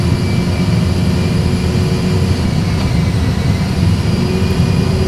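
Airbus A320 jet engines at takeoff thrust, heard from the cockpit as a loud, steady roar with a deep rumble and a constant high whine.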